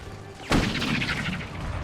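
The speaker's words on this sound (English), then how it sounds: "it'll be just in time to fire a canister" A cannon fires canister shot in a strategy video game, one sharp, heavy boom that rings out into a rumbling, crackling tail, preceded by a quieter lull.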